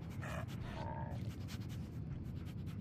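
Dogmeat, the dog in the video game Fallout 4, pants softly in quick, quiet breaths over a low game ambience, faint and brief, with no talking.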